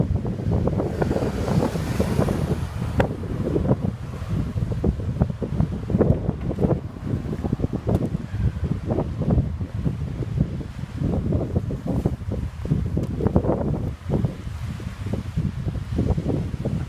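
Rough, gusty wind off the open sea outside the Bruichladdich whisky distillery on Islay, a steady loud buffeting roar over the microphone with surf and waves mixed in, no talk.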